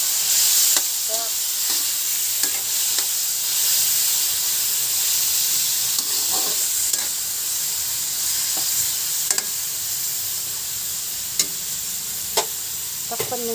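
Pork frying in a pan with vegetables cooking, a steady close sizzle and hiss running throughout, with occasional clinks and stirring scrapes from a utensil.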